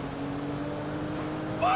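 A video game motorboat engine drones steadily, then a sharp rising whine cuts in at the end.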